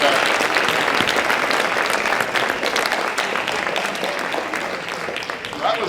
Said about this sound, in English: Round of applause for our great ropists.